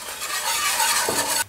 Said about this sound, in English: Now I'm gonna whisk in our liquid for the sauce.